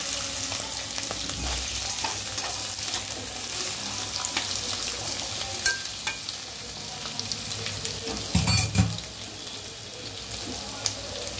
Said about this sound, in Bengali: আমি এখন আলুটাকে আগে ভালো করে ফ্রাই করে নিব।